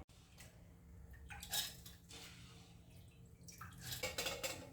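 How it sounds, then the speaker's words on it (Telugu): Water is poured into a bowl of soaked moong dal and rice with cumin for pesarattu batter, heard as uneven splashing bursts and a steady wet trickle at close range, with no talk. "కొన్ని వాటర్ పోసుకోవాలండి, పెసరట్టుకి ఎక్కువ పోయొద్దు."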